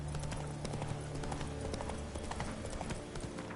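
Steady clip-clop of Roach's hooves as Geralt rides in The Witcher 3, a brisk continuous trotting rhythm over a dense background of game ambience.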